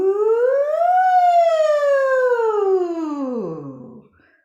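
A single human voice imitates a siren, sliding smoothly up in pitch and then gliding back down on one breath as a vocal exercise, clear and close with no talking, trailing off at the end.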